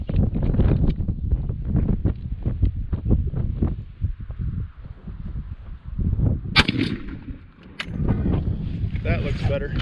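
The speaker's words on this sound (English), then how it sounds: "Shoot one final shot here." A single sharp shot from a turkey shotgun fitted with a red dot sight rings out mid-clip, loud and close, with wind buffeting the microphone and people talking before and after.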